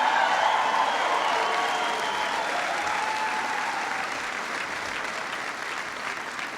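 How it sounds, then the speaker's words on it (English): Sustained audience applause for Ambassador Kathleen Stevens and General Skip Sharp at an event on American service in South Korea, a dense, steady wash of clapping that fades slightly toward the end. "Give them a big round of applause."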